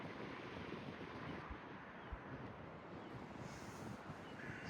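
Steady, blustery wind by the sea buffets the microphone in a continuous broadband roar on a cold, rainy day near old stone ramparts, with no voices and only faint shifts in intensity.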